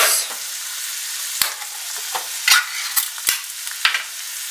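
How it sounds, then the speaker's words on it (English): Garlic frying in a pot is stirred with a spoon, giving a steady hiss with sharp scraping clicks against the metal at irregular moments, close up and alone. "Give that a good stir before we add in all of our liquids"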